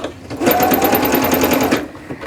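A sewing machine stitching a jogger pocket bag closed up to the side seam of the pant leg, one loud, steady, fast mechanical whirr of needle strokes lasting about a second and a half, then stopping.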